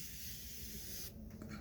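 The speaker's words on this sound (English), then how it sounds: "I always go in with setting spray before I do highlight and mascara." Makeup setting spray hissing from a pump bottle in one steady, close mist lasting over a second before cutting off, with a brief softer puff after.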